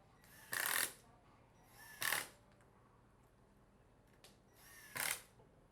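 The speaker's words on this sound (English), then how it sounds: "use a drill and prepackaged screws to fix them to the door" A power drill whirs in three short bursts, driving screws into a cabinet door, separated by pauses, close and fairly loud against a quiet room.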